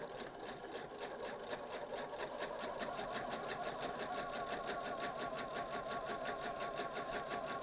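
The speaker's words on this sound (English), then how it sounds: "start off with the leader fabric and then 1/4 inch sew all the way down" A sewing machine chain-pieces fabric with a quarter-inch seam, its needle running in a fast, even, continuous rhythm that stays steady from start to finish, close and moderately quiet.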